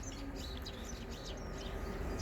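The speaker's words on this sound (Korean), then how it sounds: "새들이 많이 지저귀네요." Small birds chirp and twitter in an urban forest on the edge of a city, bright repeated calls scattered through the clip over a steady low background hum.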